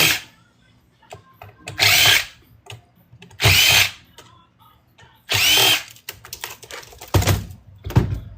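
A power drill whirs in three loud bursts, each about a second long, as it removes screws from scrap electronics. Clicks and small clunks of handling fill the gaps between bursts.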